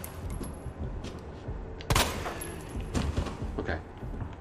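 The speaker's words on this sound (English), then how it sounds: "Wonder if he can hear those gunshots, Mr. Clean." Muffled bursts of gunfire from the video game Resident Evil 2 crackle in quick clusters, with one louder shot standing out, set against a busy background.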